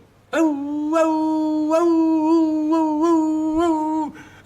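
A person howls like a cartoon wolf in a French theatre performance, one long sustained wavering howl with pitch bends, close and loud, voice imitating the animal.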